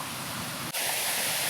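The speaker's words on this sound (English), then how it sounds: "at that little waterfall there" A small waterfall near mossy rocks gives a steady, close, broadband rush of falling water that carries on alone without pause.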